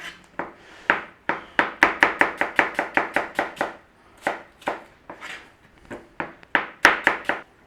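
A knife slicing apples on a cutting board for pork with cider, heard as rapid, close, crisp chopping knocks in quick bursts with short pauses between runs, and no talking.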